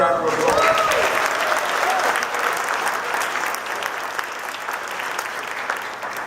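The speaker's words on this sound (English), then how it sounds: "Barbara Bartletti, let's give her a round of applause." Crowd applause for a speaker at a public event in Seneca Falls, dense and sustained clapping that begins right after a brief voice and slowly eases in loudness.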